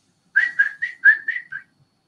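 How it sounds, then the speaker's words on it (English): A person whistles a short run of six quick, clear notes in a bouncy rhythm, close and alone against silence. "I came home whistling."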